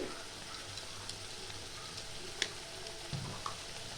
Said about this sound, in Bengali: এটা ভালো করে কষিয়ে নেব